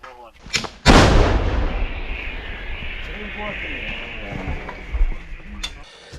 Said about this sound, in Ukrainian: гармаші стріляють між прольотами ворожих безпілотників